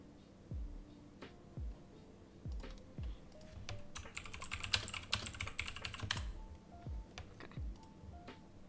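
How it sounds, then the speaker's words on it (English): Loud, clacky keyboard typing in quick bursts, with a dense flurry of keystrokes in the middle, over a faint tune playing in the background. "Sorry about my loud-ass keyboard."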